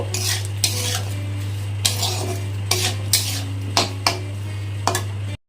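A spoon scrapes and clinks against a pot while cumin powder, chili powder and sugar are stirred with the gas off for khichuri, about eight sharp metallic knocks over a low steady hum, no speech.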